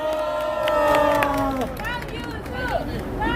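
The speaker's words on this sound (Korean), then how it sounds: "환영 박수 부탁드립니다." Crowd at a students' public declaration gathering applauds and cheers in welcome, a steady wash of clapping and voices for a few seconds with shouting calls rising over it.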